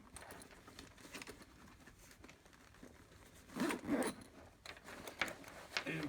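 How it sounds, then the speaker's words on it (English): A zipper is pulled closed on a DJI Mavic Pro drone bag, giving several short close raspy zips in quick bursts with light handling rustle between them. "We zip this up."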